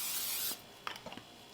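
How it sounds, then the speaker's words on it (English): Cooking oil is sprayed onto a steamer basket in a home kitchen in one brief, close hiss lasting about half a second, followed by a few faint clicks and light handling taps. "I'm just going to spray the basket"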